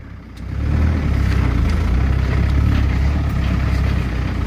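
Land Rover Defender engine with 230,000 miles idling close by, a steady low rumble that swells slightly at the start and then holds even throughout.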